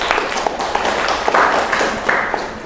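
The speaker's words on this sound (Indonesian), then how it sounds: "Tepuk tangan." Audience applause after a group presentation at a university session, a modest round of clapping with scattered individual claps, fairly close.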